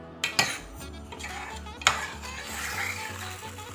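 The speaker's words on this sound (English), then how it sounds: "I'm just going to let that stir fry for a little while longer." Chicken stir fry in a pan, with a utensil clanking against the metal in a few sharp knocks, then a steady soft sizzle and stirring scrape close by, no voices.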